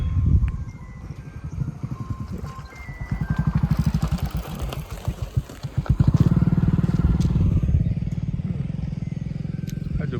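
A motorcycle engine runs steadily throughout a family ride past wheat fields and hills, its low rhythmic thrum rising and pulsing, with wind noise and a brief muffled voice mixed in.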